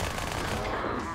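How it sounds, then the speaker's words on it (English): Battle rifle fire in the video game Halo 2, a dense, loud, continuous crackle of rapid shots running through the whole brief moment with no pause. "There's the battle rifle, right?"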